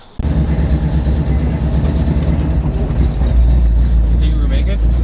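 A car rolls along the road with a steady low engine and tyre rumble heard from inside the cabin; the drone grows louder and fuller about two-thirds through as it picks up speed, with muffled voices in the background.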